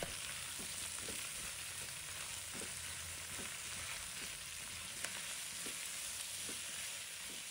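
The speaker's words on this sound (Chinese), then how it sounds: "这里我们一定要开大火，将菜叶子炒软炒透，炒出锅气" Leafy greens are stir-fried in a wok over high heat, a dense steady sizzle with regular light scrapes and tosses of the spatula recurring about every half second, no voices.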